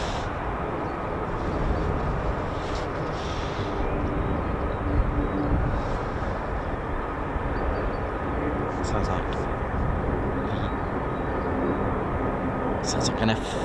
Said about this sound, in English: Sounds like an F-35 is on the move, I think.